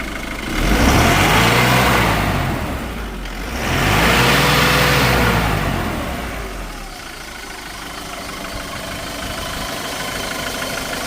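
A 2017 Isuzu D-Max pickup truck engine revs up twice in a row, each rise swelling and falling back, then settles into a steady idle rumble.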